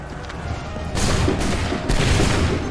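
Musket volley gunfire from Assassin's Creed 3, a battlefield line firing in two loud crashing bursts of overlapping shots over a dense rumbling background of battle noise.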